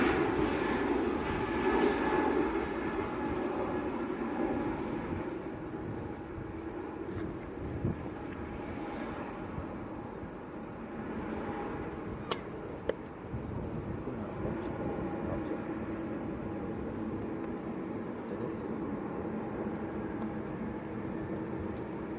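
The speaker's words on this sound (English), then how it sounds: "Jet 2 A321 Neo. That one's going to Larnaca in Cyprus." A Jet2 Airbus A321neo airliner rolls for takeoff at Manchester Airport, a steady distant engine roar that swells and slowly fades across the whole stretch, with faint background noise.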